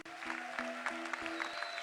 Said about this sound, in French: Cette sortie peut se faire sous des applaudissements